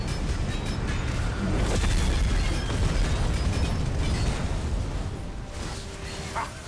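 Mortar cannon explosions in the video game Final Fantasy XVI, a dense run of booming blasts and bursts layered into a loud, continuous rumble with no let-up.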